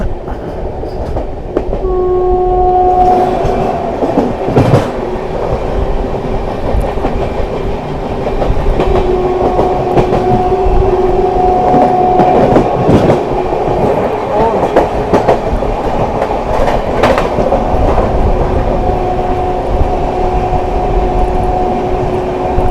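A Ranchi–New Delhi Rajdhani Express passes close by with a loud, continuous rumble and clatter of wagons, a sustained horn blast early on and again later, and no talking.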